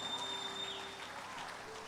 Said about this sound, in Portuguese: Vamos dar uma salva de palmas para os irmãos.